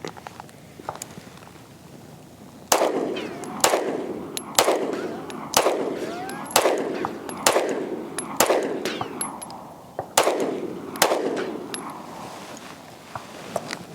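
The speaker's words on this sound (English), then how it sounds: "first rounds on the new Springfield Ronin EMP" Loud, sharp gunshots from a Springfield Armory Ronin EMP 4-inch 1911 pistol, fired one at a time at a steady pace, about ten rounds, each followed by a brief echoing decay, with no talk over them.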